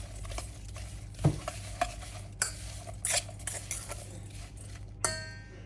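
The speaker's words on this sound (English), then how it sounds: "To the apples, add brown sugar, and cinnamon, and give them a good mix" Apples are stirred with brown sugar and cinnamon in a bowl, with a spoon scraping and clinking against the dish in quiet, irregular strokes.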